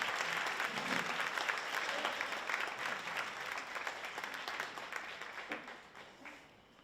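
An audience applauds the mayor at a talk on high-tech care, a steady wash of clapping from many hands that holds evenly and tapers off at the close.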